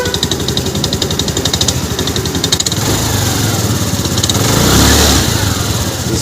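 A Honda Activa scooter engine revs up close, its steady pulsing note rising under the throttle with a fast ticking chatter laid over it, then settling into a smoother, louder drone.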